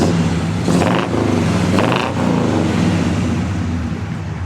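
A 1966 Pontiac Le Mans with dual exhaust and a 4-speed manual revs loudly up close, with two rising blips over a steady rumbling idle and no talk.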